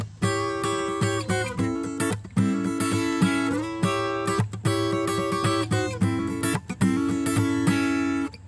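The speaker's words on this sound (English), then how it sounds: "This has got kind of a groove and almost like a funky strumming with it." Blues guitar plays a groove with a funky strumming feel, repeated riff phrases broken by short choppy gaps, loud and close without voices.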